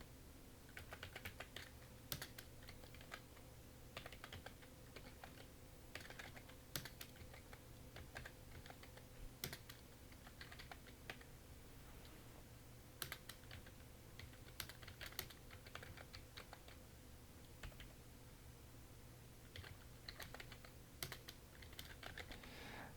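Computer keyboard keys clatter in quick, uneven bursts of typing with sharp taps and pauses, recorded quietly and close, no voices.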